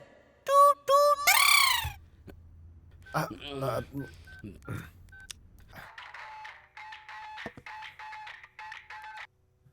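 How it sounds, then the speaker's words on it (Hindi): A telephone number is dialed over and over in a Hindi-dubbed Tamil action film, with clear DTMF tone bursts in repeated runs in the second half, preceded by other sound effects and brief speech. "तो फिर बार बार डायल करके क्यों परेशान कर रहे हो?"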